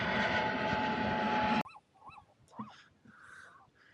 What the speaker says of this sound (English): The gulls are out in full effect.